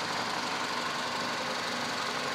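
A 2004 Honda Civic engine with an odd noise, running steadily as a dense, continuous mechanical hum and rattle heard up close with no voices.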